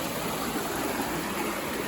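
Strong water rushing past near a Konkan home in Goa, a dense steady roar of flowing water filling the short moment without any voice.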